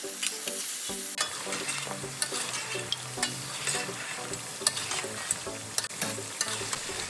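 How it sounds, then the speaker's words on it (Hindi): Mutton karahi fries with salt over medium-high heat, a steady close sizzle broken by repeated clanks and scrapes of a ladle stirring the meat in the pan. "इसे मीडियम हाई हीट पे फ्राई करते रहेंगे"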